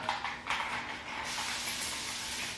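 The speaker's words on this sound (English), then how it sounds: "spray a little water on my hand and kind of wet this little area" A handheld spray bottle spritzes water onto a hand during loc hair care, giving a few quick, close hissing bursts followed by a steady soft hiss, with no talking.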